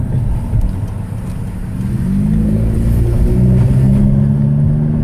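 A VW GTI MkV with an APR Stage K04 upgrade downshifts into second gear, its engine note droning low and steady up close, then rising and growing a little louder as the revs climb.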